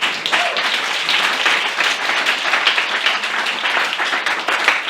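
A debate audience claps steadily for the contestants, a dense, even round of applause that holds from start to finish with no talking.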